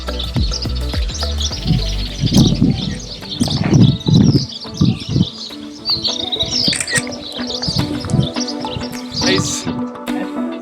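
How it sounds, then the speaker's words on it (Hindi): Birds chirp and tweet throughout, with a dove cooing low beneath, while people talk nearby in an open outdoor space on a trek in Zanskar, Ladakh. "पंछियों की आवाज़ इसे और भी स्पेशल बनाती है"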